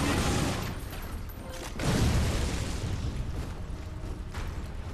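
Gunshots in a Lara Croft game firefight come as a dense, muffled barrage at moderate loudness, swelling at the start and again around the middle, without clear talk.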